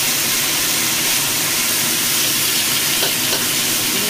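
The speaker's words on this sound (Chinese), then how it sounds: "煎佢先，煎熟一邊。" Sirloin steak fries in smoking-hot oil in a pan, giving a steady, dense sizzle that holds at an even, close level throughout, with no voices.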